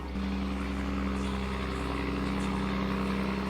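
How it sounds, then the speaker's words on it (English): A diesel generator runs nearby as a loud, steady low drone with a constant hum and no letup. "they've started the diesel generator"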